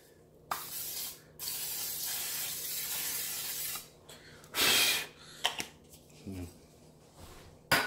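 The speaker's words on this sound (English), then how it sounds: "We're going to spray down the inside of the crock pot." A few short bursts of cooking spray into a crock pot, one long hiss and a couple of quick puffs, followed by light clicks and handling noises nearby.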